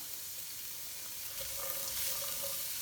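Diced onion and celery sauté in a soup pot with a soft, steady sizzle that swells slightly partway through, faint and alone.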